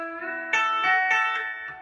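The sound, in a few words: electric guitar country lick, pedal steel style bends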